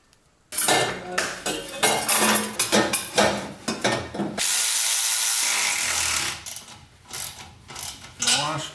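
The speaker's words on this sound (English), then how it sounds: "Putting the lock washer on, making it official." Metallic clinks and ratcheting clatter while a lock washer goes onto a part of a turbo LS street truck build near the O2 sensor bung, loud and close, with a sustained whirring hiss in the middle.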